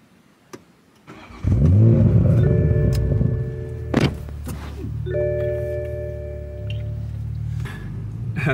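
A Toyota Supra engine cranks and catches on a warm start, then settles into a loud, steady idle with a brief rev, recorded up close.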